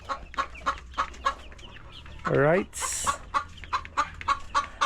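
Small farm chickens cluck in short repeated bursts nearby, with one louder squawk and a higher shrill call in the middle; a brief spoken word is heard.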